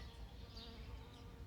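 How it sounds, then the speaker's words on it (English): Bees buzzing steadily around lobelia flowers outdoors, a continuous faint droning hum with no talk over it. "was lots of bees round about this lobelia, so they were just buzzing about"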